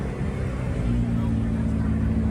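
A C8 Corvette ZR1 at an NCM Bash car event, its engine rumbling loud and steady throughout with building revs, with people talking nearby.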